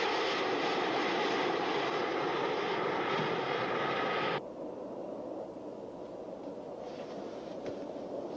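Jet airliner engine drone in cruise at 30,000 feet, a steady broadband roar heard from inside the cabin that drops abruptly to a quieter hum partway through, with no speech.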